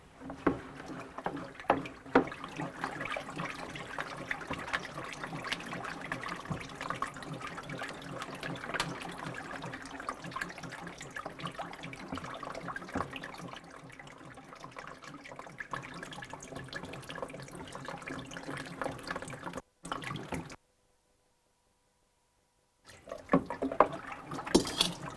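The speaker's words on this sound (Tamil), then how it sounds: "இப்போ அந்த எண்ணெய்க்குள்ளே இதை கொண்டு போய் ஊற்ற போகிறோங்க." Herb-soaked water poured into a pan of oil, a steady running liquid stream lasting about twenty seconds, then a brief silence before the pouring sound returns.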